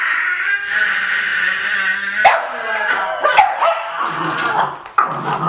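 A pit bull barks and yelps in a few sharp bursts at close range, mixed with excited whimpering, while people talk and shout over it indoors.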